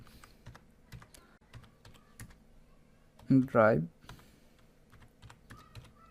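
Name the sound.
typing Google Drive search on a computer keyboard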